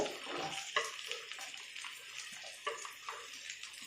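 Faint sizzling of chopped beetroot frying with curry leaves in a pan, a soft hissing crackle broken by a few sharp clinks of stirring, with no voice.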